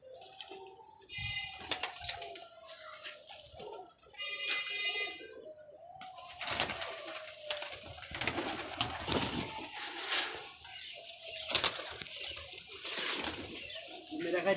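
Pigeons cooing in a loft, several birds giving soft repeated coos close by, with other bird calls, background rustling and occasional human voices mixed in.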